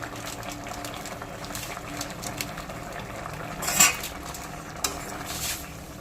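Gourd curry seasoned with chopped coriander and shahi garam masala is stirred in a pan. A quiet bubbling simmer runs throughout, broken by a few light scrapes and clinks of a spoon against the pan.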